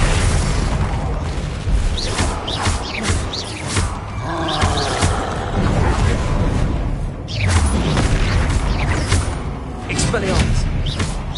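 Fiery spell blasts from the Incendio charm in Hogwarts Legacy, repeated booming bursts and crackling impacts in a dense, loud game soundscape with overlapping combat effects throughout.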